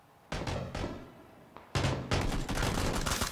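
Gunfire in PUBG during a competitive match: a pair of sharp shots, a brief lull, then a louder cluster of rapid reports close together, with no talk.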